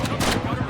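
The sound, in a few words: gunfire from bandits shooting zombies in video game Project Zomboid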